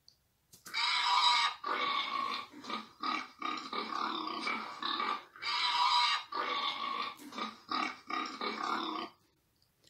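A pig oinks and grunts in a string of short, loud, rough bursts with brief gaps between them, close and alone in an otherwise silent setting.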